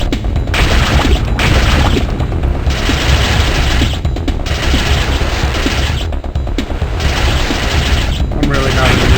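Gunfire in the video game Ripper: rapid, loud bursts of shots and mechanical clatter come in repeated volleys separated by short pauses, with voices in the mix.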